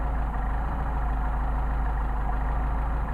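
A Mercedes 190SL engine on Solex carburettors idles steadily at low revs, a continuous even rumble with a faint regular pulse and no voices.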